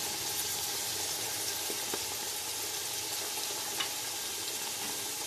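Chili powder, turmeric and cumin roasting in a pan, heard as a faint, steady sizzle with light scraping from stirring and no voices.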